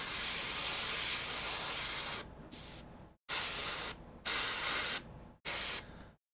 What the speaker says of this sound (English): why are you spraying off to the left every once in a while?